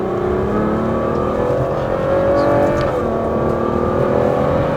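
Naturally aspirated V12 of a Ferrari GTC4 Lusso revving hard from the cabin during a first drive, a loud continuous engine note with rising and falling harmonic pitch sweeps and no talk.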